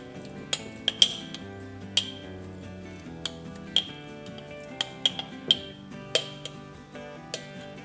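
A spoon stirs cold soaked oatmeal in a container, giving sparse, bright clinks and taps against the sides at irregular intervals over a quiet background.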